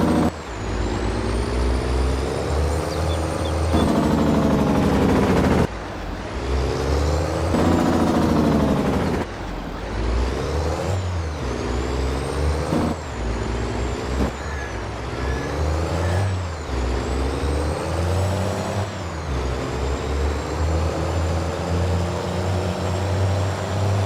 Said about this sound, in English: That's gotta be pretty heavy on that straight truck.